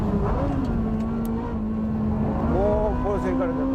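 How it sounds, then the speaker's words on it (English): A Porsche 996 Turbo and a Nismo GTR race cars accelerating hard, a loud sustained engine drone rising in pitch near the end, with someone talking over it throughout. "The Nismo GTR coming on. The Porsche with the mid-speed acceleration."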